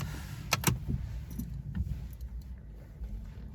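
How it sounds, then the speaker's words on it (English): A key goes into the ignition of a 2016 Abarth 595 Competizione: two sharp metallic key clicks and jangles close up inside the cabin, followed by a few softer taps over a low interior hum. "Put in the ignition."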